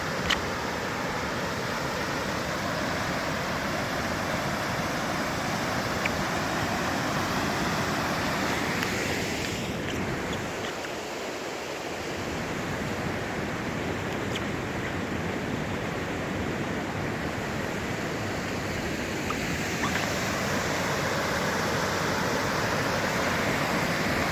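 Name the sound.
waterfall in Abel Tasman wilderness, New Zealand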